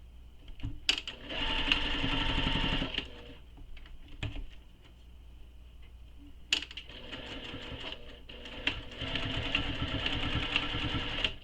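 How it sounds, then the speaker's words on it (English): A sewing machine back stitches to lock a seam while making a Nora bag, fast mechanical whirring in two close bursts separated by a quieter pause with small clicks. "I'm just back stitching here, just to help lock that in place"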